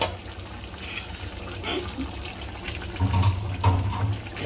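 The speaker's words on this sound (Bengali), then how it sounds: "জল দিয়ে দিলাম" Water pours into a cooking pot holding fried eggplant pieces and greens on a home stove, a steady splashing flow with louder gushes toward the end, no talking.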